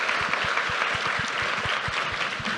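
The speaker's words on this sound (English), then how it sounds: "They deserve a round of applause." Audience applause at a workplace gender-equity event, a dense, continuous burst of clapping from a crowd, loud and even from start to finish with no voices.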